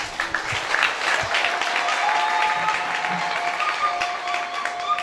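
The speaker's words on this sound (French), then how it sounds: "je demande à toute assistance d'applaudir" Audience applause at a political gathering, a dense, sustained clapping that holds steady for several seconds, with some crowd voices mixed in.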